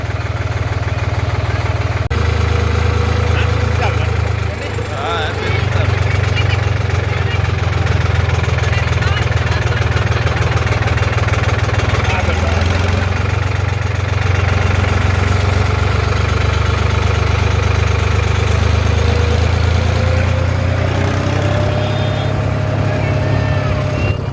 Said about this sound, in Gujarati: ટ્રેક્ટર લઈને નીકળે ગામ બધા